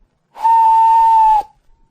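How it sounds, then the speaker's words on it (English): A single steam train whistle sounds from a children's audiobook, one clean steady tone about a second long that starts and stops sharply and stands alone with no talking. "Presently, he heard a whistle"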